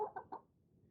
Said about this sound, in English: every time you pick her up, she makes little like preening sounds